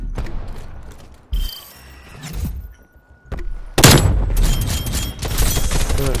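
Video game gunfire comes in bursts of sharp cracks and booms, the loudest volley arriving in the second half, with quieter stretches and brief thuds between.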